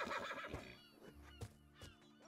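A horse whinnies in the fantasy role-playing game Might & Magic X, a quick rising and falling neigh with a soft snort, quiet and alone.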